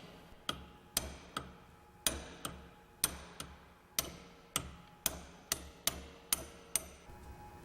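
A hammer taps a roller pin out of its bore in roughly a dozen sharp metallic strikes, evenly paced about every half second and heard up close with no talk.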